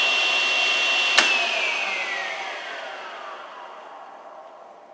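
A table saw runs at full speed with a steady high whine, then is switched off with a sharp click and winds down, its pitch sliding lower as the hum fades over several seconds.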